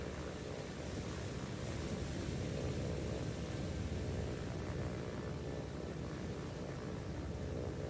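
Reconnaissance plane engines in the naval combat game War on the Sea, a continuous dense droning roar with broad noise, steady throughout with no voices.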